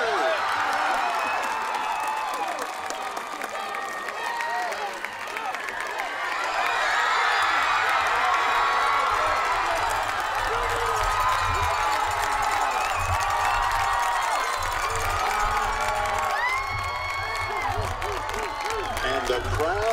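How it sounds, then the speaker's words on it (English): Football stadium crowd roaring and cheering for the newly announced homecoming queen at a 2013 college game, a loud sustained wash of shouts and whoops that swells midway and holds to the end. "And the crowd goes wild."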